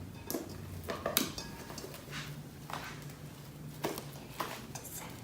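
Homemade slime is mixed and kneaded in a bowl, giving soft squelches and light scraping knocks against the bowl at an uneven pace, close by and fairly quiet.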